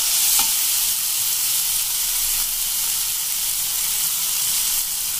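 Paneer bhurji with finely chopped coriander is stirred in a frying pan, a steady close sizzle and hiss with soft scraping running throughout, no voices.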